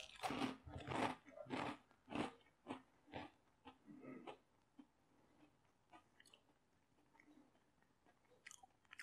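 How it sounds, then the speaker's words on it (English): Crunchy French Toast Crunch cereal is chewed close to the mic, a run of dry crunching bites that thin out into faint, sparse chews before a brief noise at the end. "I get a lot of the crunch. You probably hear the crunch."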